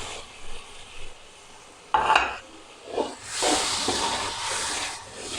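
Tomatoes drop into aloo baingan frying in a pan, giving a sharp burst of sizzle and hiss followed by steady frying with occasional stirring scrapes; no one talks.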